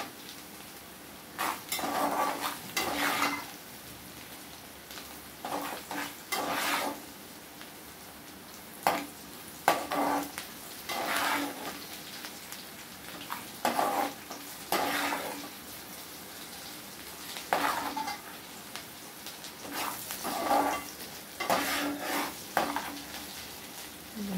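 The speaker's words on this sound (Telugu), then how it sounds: "కలర్ వచ్చేదాకా ఉల్లిపాయలు వేయించుకోవాలి" Onions fry in a pan until colored and are stirred repeatedly, with a steady sizzle under rhythmic scraping and clinking of a utensil against the pan.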